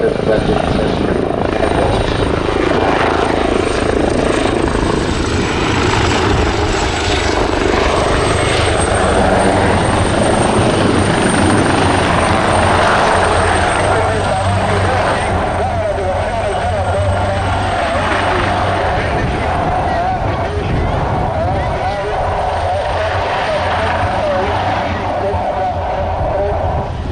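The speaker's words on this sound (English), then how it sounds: "The helicopter is now approaching the survivor." A helicopter hovering close during a rescue demonstration at an air show, with a loud steady rotor and engine roar throughout and a commentator talking over it.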